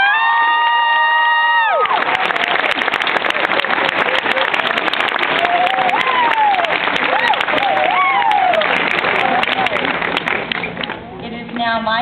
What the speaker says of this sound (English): Please join me in a round of applause for our dedicated and caring staff.